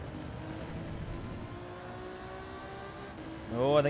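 In the video game Gran Turismo 7, an engine drones at a distance with rising whine, then a high-revving race car sweeps past close and loud at the end.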